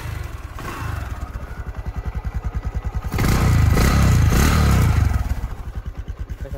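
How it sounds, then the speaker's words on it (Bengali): A Bajaj Discover 100 motorcycle engine starts and runs close by, a rapid regular single-cylinder thump that surges louder in a brief rev before settling back to a steady beat. "আমি স্টার্ট দিয়ে সাউন্ডটা শুনে তারপরে প্রাইসটা বলে দিতেছি।"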